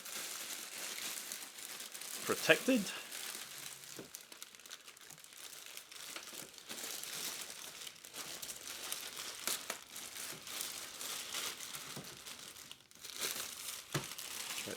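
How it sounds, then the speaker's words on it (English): A clear plastic bag is lifted off a new RENPHO air purifier, giving a close, quiet crinkling with a sharper rustle early on and lighter crackles afterwards; one word is spoken briefly. "let's lift out or lift off the clear plastic bag that's keeping it"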